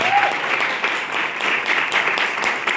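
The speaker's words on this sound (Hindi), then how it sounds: "जोरदार ताली होगी" A hall audience at a business seminar in a hotel claps loudly and steadily, a thick continuous wash of applause with faint voices briefly underneath.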